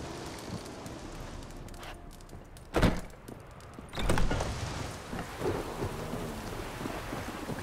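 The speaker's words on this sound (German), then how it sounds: "Ein Sturm, verdammt." Thunderstorm with steady rain in the video game The Witcher 3, with two loud thunder cracks rolling out midway over a constant rain hiss, no voices.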